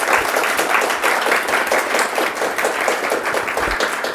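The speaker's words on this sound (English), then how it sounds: "I think that deserves a very special round of applause." An audience at a further education and skills roadshow breaks into sustained, dense applause, many hands clapping together at a steady level with no voices standing out.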